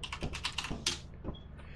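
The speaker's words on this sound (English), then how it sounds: "Oh, who's like aggressively typing?" Fast, aggressive typing on a computer keyboard, a dense rattling run of sharp key clacks up close, tailing off into a few scattered strokes.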